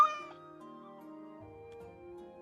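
A cat meows in Pathfinder: Wrath of the Righteous, a single drawn-out call with a clear tone, heard close and fairly quiet with no talk over it.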